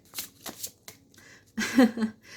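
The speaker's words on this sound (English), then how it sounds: "I'm gonna shuffle it back because I'm just gonna need like 2 or 3 cards" A deck of tarot cards is shuffled by hand in a few quick riffling bursts with short pauses between them, close and crisp, with no talking.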